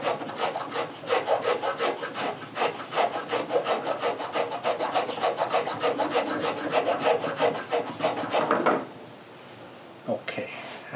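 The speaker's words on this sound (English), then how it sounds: "a little bit of hand planing will give a nice flat surface up here." A hand plane smooths a wooden board for a dovetail joint with rapid, rhythmic rasping strokes, close and steady for several seconds before slowing to a few scattered scrapes.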